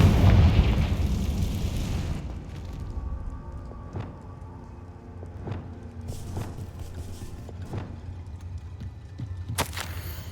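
A Confringo spell explodes in the video game Hogwarts Legacy. A loud fiery blast with a rumbling roar opens the clip and fades over a couple of seconds, followed by scattered light thuds and clatter.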